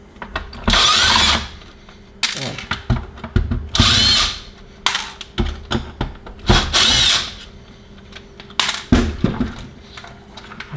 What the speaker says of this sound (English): And now we just simply take out the three or four screws.